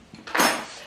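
Cutlery lifted out of a household dishwasher, a brief close clatter of metal pieces knocking together in a single quick rattling burst.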